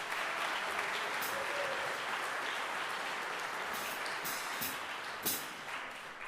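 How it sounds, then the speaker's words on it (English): A concert audience claps steadily for a group of young musicians, a dense, even wash of applause lasting the whole stretch with a few sharper claps standing out near the end. "Give them a big round of applause."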